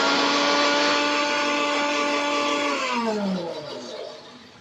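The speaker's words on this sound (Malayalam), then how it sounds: "ഇതിലിടാനുള്ള മസാല തേങ്ങ, മഞ്ഞൾപ്പൊടി, മുളക് പൊടി, പച്ചമുളക്, ജീരകം, വെളുത്തുള്ളി ഇത്രയും എടുത്ത് നല്ലവണ്ണം ഒന്ന് മിക്സിയിൽ അരച്ചെടുക്കണം" A kitchen mixie grinds coconut with turmeric, chilli powder, green chillies, cumin and garlic into a masala, a loud, steady electric whine running close up before it winds down and the motor pitch drops as it stops.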